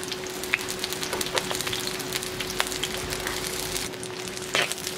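Garlic sizzling in hot sesame oil for a Jaffna-style brinjal kadala curry, a steady close crackle with scattered sharp pops and a faint constant hum, no talking.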